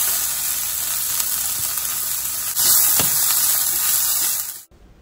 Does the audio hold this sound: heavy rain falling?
no